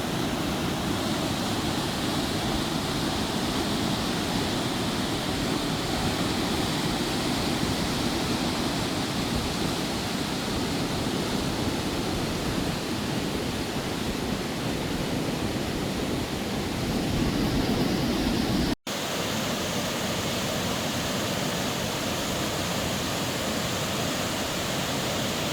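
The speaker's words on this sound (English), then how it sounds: "What you're seeing now is what they call Dragon's Mouth Spring." Dragon's Mouth Spring, a Yellowstone hot spring, churns and roars with steady dense rushing water noise throughout, nearby and loud, with a brief cut near the end and no talking.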